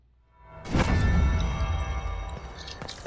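A bell in Dragon Age Inquisition strikes once with a sharp onset and rings on as a bright sustained tone that slowly fades, heard alone without talk.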